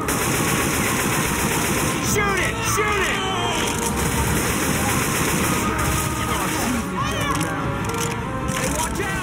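Dense automatic gunfire from Left 4 Dead 2, loud and continuous for the whole stretch, layered with rapid shots and background game noise, with voices mixed in under the shooting.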